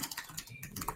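Rapid, light keystrokes on a computer keyboard, a quick run of close clicks tapping out text with no talk.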